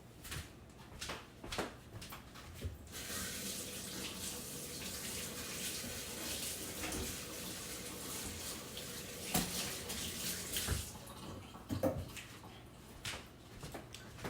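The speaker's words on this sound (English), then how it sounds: "I gotta wash my hands" Tap water runs into a sink while someone washes their hands in a home kitchen. The flow is steady and close, with short splashy breaks near the start and end.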